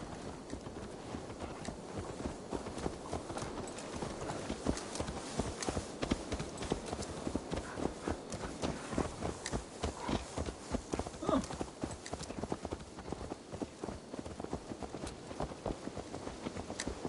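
Horse hooves clip-clop in a steady, rhythmic gait throughout in a fantasy role-playing video game, close and fairly distinct, with background ambience and some game dialogue speech mixed in.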